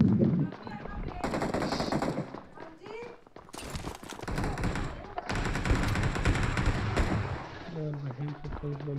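Rapid automatic gunfire in a shooter game plays in loud bursts, some near and some more distant, while players talk over the shooting.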